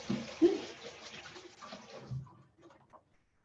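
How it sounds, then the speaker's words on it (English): Hands washed under a running tap in a home kitchen while cooking dahl, a moderately loud splashing water stream for about two seconds, then it stops, leaving faint small clatters. "I'm just going to wash my hands again."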